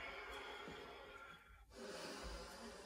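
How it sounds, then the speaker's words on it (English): A long, slow breath taken during a yoga practice, soft and close, with an airy inhale easing into a gentle exhale and a short pause in the middle. "Nice long breath."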